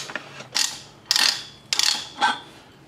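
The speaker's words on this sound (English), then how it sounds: "We basically turn the handle, the ratchet handle the other way, and then we can take the die head off the thread we've just cut." A ratchet handle turns a Shida manual pipe-threading die head on a 2-inch steel pipe, giving four separate bursts of close, crisp ratcheting clicks with short pauses between them and no talking.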